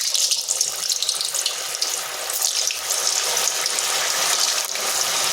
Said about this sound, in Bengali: এখানে তেল গরম হতে দিয়েছি, গরম হয়ে গেছে। এরপরে এগুলো দিয়ে দিচ্ছি।